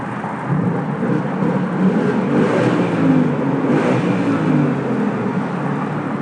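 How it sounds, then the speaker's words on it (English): Engine of a 2018 Ford Mustang GT with its V8 revving inside a road tunnel, a loud, steady low roar that swells and holds for several seconds and echoes off the enclosed walls, with no talking. "Should we rev it a little bit?"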